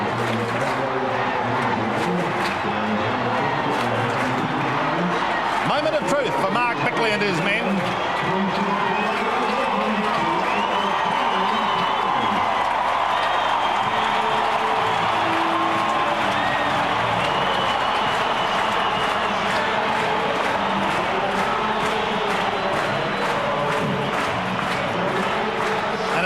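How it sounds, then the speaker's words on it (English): A large Adelaide Crows crowd roars continuously as the team runs onto the ground before a 1997 semi-final against Geelong in the rain, a dense, sustained, far-off swell under a commentator's voice. "Listen to the roar from this Crow crowd"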